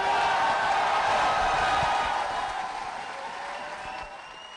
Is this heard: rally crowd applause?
yes